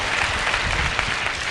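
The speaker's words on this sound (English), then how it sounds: "Can we clap for him?" An audience at a public speaking session gives a brief burst of clapping, a short, fairly loud patter of many hands lasting under two seconds.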